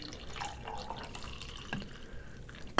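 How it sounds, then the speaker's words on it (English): Coffee poured into a cup at a tabletop wargame session, a thin trickling stream with faint drips, quiet and close, ending in a louder clatter. "So Mad Dog, I gotta pour some coffee here."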